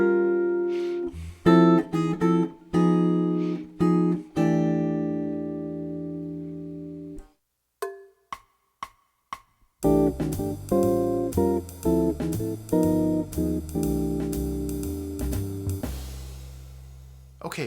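Jazz guitar comps through a 1-6-2-5 progression in rootless voicings, sounding as a sequence of clear plucked chords with short stabs and syncopated anticipations, then a sustained, fuller chordal passage ringing toward the end.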